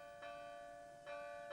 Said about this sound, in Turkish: Bu çan sesine benziyordu.